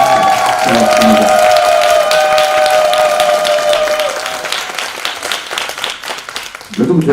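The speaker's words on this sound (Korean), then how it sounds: "다시 저 학생들에게도 박수 한번 보내드릴까요?" Audience applause for students of a dance club team, a steady wash of clapping with talk over it that thins and fades toward the end.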